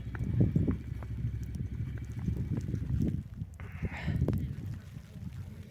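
Rhythmic clip-clop of a draft horse's hooves nearby, a steady series of dull thuds, with a short breathy rustle partway through.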